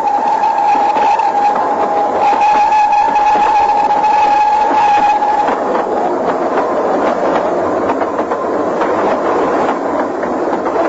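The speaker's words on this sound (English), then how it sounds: "A rapid train passed below me and was skimming away over the landscape." A train rumbles past with a steady clattering roar and a sustained metallic whine, loud and close throughout.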